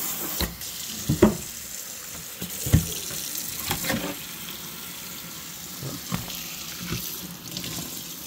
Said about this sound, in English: it sure is nice to be able to just rinse this bad boy off